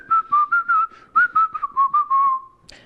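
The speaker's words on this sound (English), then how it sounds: "You just sort of whistle, and then you keep whistling" A person whistles a quick run of short, chirpy notes in a steady rhythm, close and clear, ending on a longer held tone.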